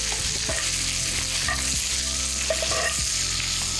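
Butter sizzling and frying in a pan as it is tossed, a steady bright crackle with clanks and scrapes from the pan moving, close to the microphone with no talking.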